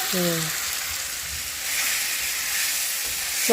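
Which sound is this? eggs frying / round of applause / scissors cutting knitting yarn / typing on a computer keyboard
eggs frying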